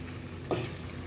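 Marinated prawns and potatoes drop into a sizzling biryani pot, a sudden burst of frying hiss and stirring noise rising midway over a steady low sizzle, close and fairly quiet.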